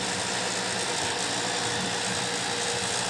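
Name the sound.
vacuum cleaner brush spinning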